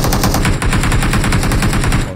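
Loud, rapid automatic gunfire from the mobile battle royale game PUBG Mobile, a steady stream of evenly spaced shots filling the whole short burst with no pause.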